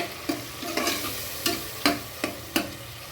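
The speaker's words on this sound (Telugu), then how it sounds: "టమాటా వేసుకొని కలపాలి." Tomatoes stirred and sautéed in a pan with onion paste, a steady soft sizzle broken by about six sharp scraping strokes of the spoon at an uneven pace, close and fairly quiet, with no talking.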